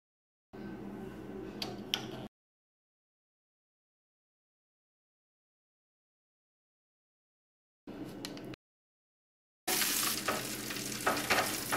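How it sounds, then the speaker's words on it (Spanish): A thickening arepa mixture is stirred in a pot, giving close scraping and bubbling bursts separated by long silent gaps, the last stretch louder and continuous. "No pueden parar de removerlo"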